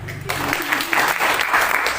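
A church congregation bursts into steady, close applause for a couple of seconds, with a voice briefly audible at the start.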